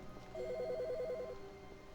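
An office telephone in the video game The Stanley Parable gives one short, warbling electronic trill, about a second long, over a quiet room hum.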